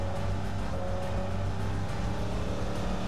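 A boat motor in PUBG Mobile drones steadily at moderate volume, a constant low engine hum lasting a few seconds with no talking.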